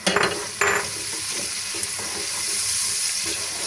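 Capia and thin green peppers sautéing in a pan with onion in oil, a steady close sizzle with a couple of louder bursts and light stirring clatter near the start.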